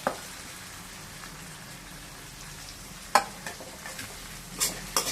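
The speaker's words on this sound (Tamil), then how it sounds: "இப்போ இந்த வெங்காயம் போட்டுடுறேன்" Onion sizzles softly in a hot pan for an elephant yam fry, a low steady hiss broken by a few sharp clinks and scrapes of stirring.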